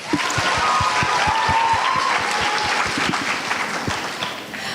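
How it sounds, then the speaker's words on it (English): Audience applause at the Laasya 2023 evening event, honouring organisers, a sustained roar of many hands with distinct individual claps near the front, tapering slightly toward the end, a brief whistle early on. "let's please give them another warm round of applause"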